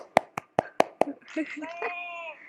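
Five sharp, evenly spaced hand claps ring out close by, followed by a voice speaking and laughing.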